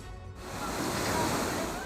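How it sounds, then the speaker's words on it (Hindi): The flooded Gangro river in Saharanpur, Uttar Pradesh, roars with a steady, dense rush of water that stays loud and unbroken throughout. "सैलाब का ये हाहाकारी रूप, तबाही मचाने को बेताब गांगरो नदी"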